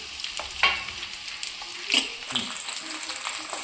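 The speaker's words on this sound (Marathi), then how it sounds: "तर बघा कांदा लसूण आपला चांगला फ्राय झालेला आहे।" Sliced onion and garlic frying in a frying pan, a continuous hissing sizzle with a few clinking stirring strokes and short bursts of spattering.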